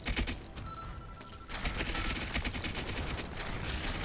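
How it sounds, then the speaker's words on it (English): Gunfire from a video game rattles in rapid bursts, close and fairly loud, with a brief pause before the shooting resumes. "Stop shooting me."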